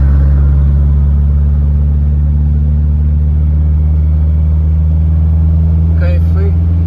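Truck engine idling and pulling away with a deep, steady low rumble, loud and close throughout, a brief faint chirp near the end.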